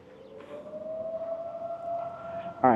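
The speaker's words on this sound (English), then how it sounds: "I got weird sirens going off in the background." A tornado siren in a small Texas town holds a steady, slowly rising wail that sounds distant but clear over quiet ambience, and a brief louder burst of another sound cuts in at the very end.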